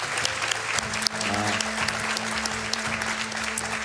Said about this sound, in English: please just give both of them a great round of applause